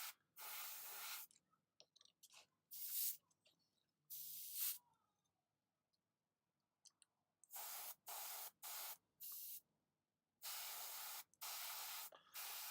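An airbrush sprays paint onto miniatures in repeated short bursts of close, airy hiss, each lasting about a second, separated by silent pauses.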